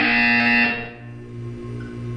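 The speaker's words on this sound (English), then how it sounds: "You will hear a buzzer. When you hear the buzzer, look up at the ceiling." A harsh electronic buzzer in the game Portal 2 blares for under a second, then cuts off, leaving a low steady hum beneath.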